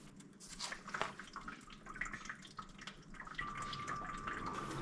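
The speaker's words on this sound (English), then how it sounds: "it will run a 2 to 3 minute water flow cycle through the freezing section" Water runs and trickles steadily through the freezing section of a countertop nugget ice maker during its start-up flow cycle, with soft drips and a faint, constant wash of liquid.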